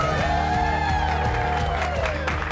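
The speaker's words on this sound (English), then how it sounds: "let's all cheer for him" An audience at a chamber of commerce annual installation and membership meeting cheers and whoops for a $50,000 prize winner, loud and continuous with clapping mixed in and voices shouting over the crowd.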